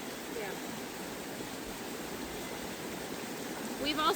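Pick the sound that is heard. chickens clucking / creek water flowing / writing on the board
creek water flowing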